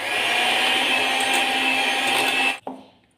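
An electric mixer whips cream with powdered sugar and cocoa powder, giving a loud, steady whir that runs unbroken for about two and a half seconds, then cuts off with a short clunk and fading rattle.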